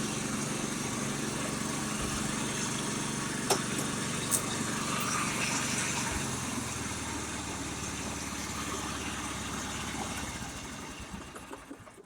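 A Honda 4013 lawn tractor engine runs at a steady idle, a constant close rumbling drone with slight pitch shifts and a couple of brief clicks, slowly easing in level near the end.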